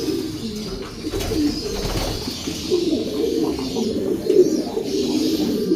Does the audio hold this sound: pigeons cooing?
yes